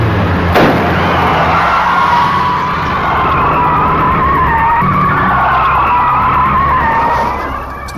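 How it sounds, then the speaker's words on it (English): Car tires screech in a long, loud, sustained skid with engine noise throughout, during a 1986 police pursuit in Miami where one car rams another from behind. A sharp bang is heard near the start. "rammed the fugitive's car from behind"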